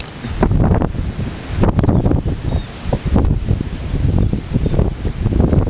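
Strong, gusty wind buffets a seaside pier at Worthing in stormy weather, roaring steadily with repeated loud blasts across the microphone and faint surf or rustling beneath.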